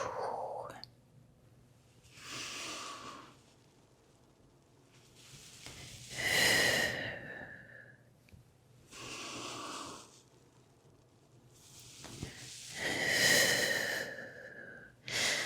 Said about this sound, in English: Then inhale, big open. Exhale, close. Inhale and exhale.